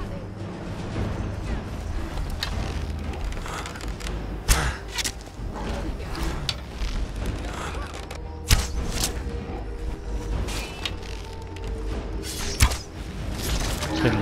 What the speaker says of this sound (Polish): Słyszę tego smoka, ale nie widzę go w tym momencie.